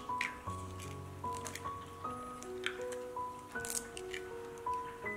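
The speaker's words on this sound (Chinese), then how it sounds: "首先在盘中打入几颗鸡蛋" Eggs are cracked into a plate, giving a few faint wet squishes and soft taps beneath steady background music, with no talking.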